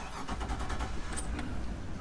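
A multi-port injected boat engine is started with a key, first a faint click and jangle, then a brief crank before it catches into a low, quiet idle, all heard from close by.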